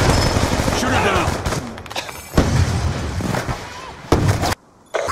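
Gunfire in the shooter Black Ops 2: loud bursts and repeated shots come in clusters over constant battle noise, close and harsh, with voices speaking in between.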